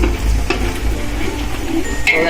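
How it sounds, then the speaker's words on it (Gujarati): Onions sauté in a pan for a chaapdi tavo dish, a loud close sizzle with a wooden spoon stirring and scraping through it in short strokes. "આપણી ડુંગળી એકદમ સોતે થઈ ગઈ છે"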